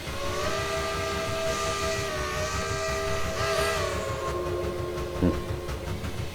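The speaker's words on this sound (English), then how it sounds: "That's a good sounding whistle." A steam whistle on a Willamette geared locomotive in the Trainz 2019 simulator sounds a sustained, loud multi-tone chord, with low rumbling engine noise underneath.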